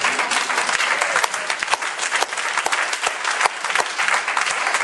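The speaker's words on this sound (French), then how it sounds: "Vous applaudissez pas, moi je vais applaudir." Audience applauding at a talk, dense continuous clapping filling the whole stretch, loud and close with no voices on top.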